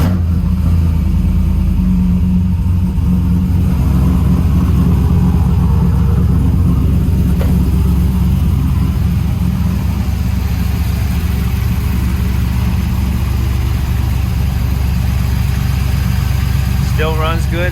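A Chevrolet Trailblazer SS engine runs loud and close at a steady, deep idle with a throaty rumble throughout, occasionally rising slightly in revs, and a brief voice near the end.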